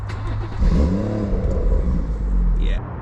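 A BMW M140i with its B58 engine in Sport Plus starts up: a quick crank catches into a loud rising rev flare, then settles into a strong, rumbling idle nearby, with some voice in the background.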